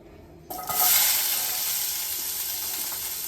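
After a short quiet moment, a sudden loud sizzle erupts as onion hits hot oil in a kadhai, then settles into a steady crackling fry.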